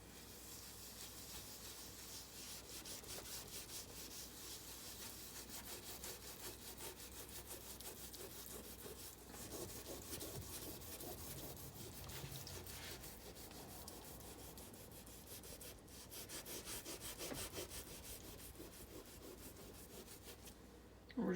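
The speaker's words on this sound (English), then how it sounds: "So now we're going to scrub it." Steady abrasive rubbing and scraping as an oven's glass door is scrubbed with baking soda, a continuous close-up gritty swish that runs throughout with small swells in intensity.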